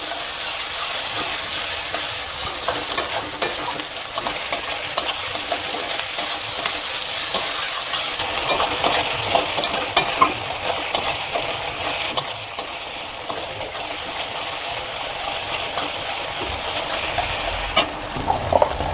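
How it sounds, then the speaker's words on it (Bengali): Garlic and ginger sizzle steadily in a hot pan for a Bengali chicken curry, with a constant loud frying hiss broken by frequent scraping stirs throughout and no voices. "রসুন আদাটাকে আমি ভালো করে এখন কষিয়াবো।"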